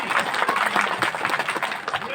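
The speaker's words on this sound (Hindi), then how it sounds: "एक बार जोरदार तालियां अपने लिए बजा ले।" An audience at a village poetry gathering claps in a dense burst of applause, with voices and cheers mixed in throughout the short stretch.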